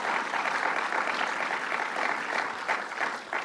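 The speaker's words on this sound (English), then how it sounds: "that deserves applause" Audience applause rises at a political event, steady hand clapping from a crowd sustained for a few seconds at moderate volume without talk over it.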